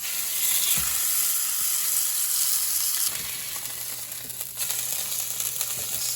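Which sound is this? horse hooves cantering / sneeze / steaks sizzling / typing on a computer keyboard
steaks sizzling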